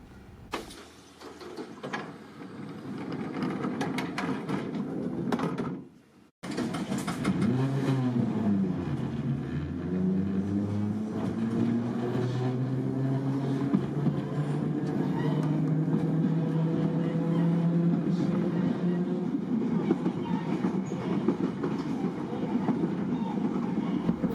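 A 1938-era electric passenger train on the Isle of Wight pulls away with a rising whine of traction motors that settles into a steady rumble, after a brief pause near the start.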